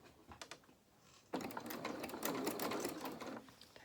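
Sewing machine stitching fabric for doll dungarees, a faint start of a few ticks, then a fast steady mechanical whirring run of stitches lasting about two seconds before stopping, heard alone and close.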